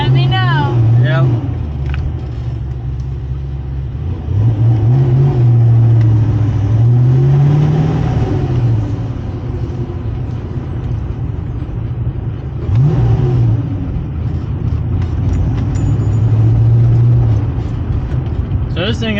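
A Fox Body Ford Mustang engine, running on bad fuel after sitting unused, drones loud and close with rising revs and uneven surges that hint at sputtering, while people talk over it throughout.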